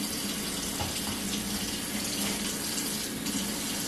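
Hot water runs steadily from a household tap into a Rug Doctor cleaning-solution bottle, a continuous rushing splash with no voices, close and even throughout.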